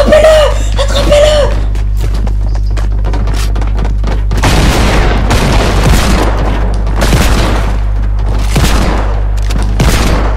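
Gunfire in a sheriff-themed murder mystery video game, a run of loud booming shots and bursts over a steady low hum, with a voice briefly at the start.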